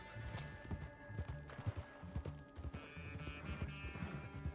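Horse hooves galloping in Red Dead Redemption 2 Online, a steady rhythmic thudding of hoofbeats carried under faint background tones and game ambience.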